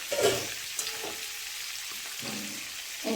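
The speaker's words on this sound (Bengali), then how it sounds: "যে চিংড়ি মাছটাকে হালকা করে ভেজে নেবো বেশি ভাজলে আবার শক্ত হয়ে যাবে" Prawns fry lightly in a pan with a steady, soft sizzle that holds throughout, broken by a few faint stirring scrapes.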